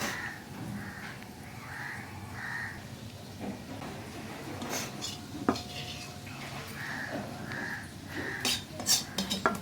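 Cooked chicken served from a pot onto a plate, with metal utensils and dishes clinking and scraping in scattered bursts, a few sharper knocks near the end, close by with no talking.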